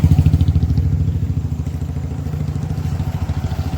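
A motorcycle engine on a road in Nadia is heard close and loud, chugging in a rapid, rough rhythm that steadies into a fast pulse.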